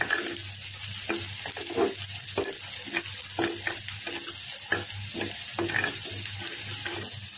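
Boiled greens are stirred into browned onion in mustard oil, with a steady sizzle under repeated scraping strokes of a spatula against the pan in an irregular rhythm, close and moderately loud.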